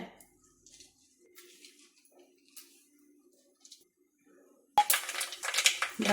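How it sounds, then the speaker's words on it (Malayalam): Mustard seeds crackle and pop in hot oil while cooking elephant foot yam theeyal, with scattered light spits first, then a sudden loud burst of dense crackling near the end. "കടുകൊന്ന് പൊട്ടട്ടെ"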